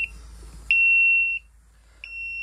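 A shrill high-pitched electronic warning beep from a descending car lift sounds twice, each tone long and steady, separated by a brief silence, loud and close.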